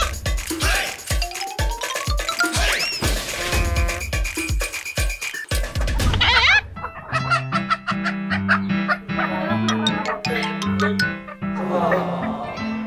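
Darag native chickens clucking and squawking close by, with rhythmic calls and shrill cries at first, then a run of repeated, stepped clucks, under the loud bustle of a farmyard.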